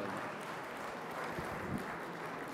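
An audience applauds as Kareem Yusuf of IBM is welcomed to the stage at a d!talk, producing steady, dense clapping held at an even moderate level from start to finish.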